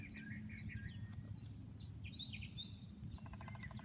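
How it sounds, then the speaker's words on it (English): Springtime birds chirp faintly in a Southern garden, with scattered tweets over a steady low outdoor hum and a rapid tapping, like a woodpecker pecking high in a tall tree, near the end. "Can y'all hear those Tweety birds, by the way?"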